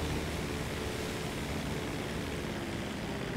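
A propeller aeroplane in GTA 5 Online drones steadily and loudly throughout, a dense unbroken engine roar with no other sounds on top.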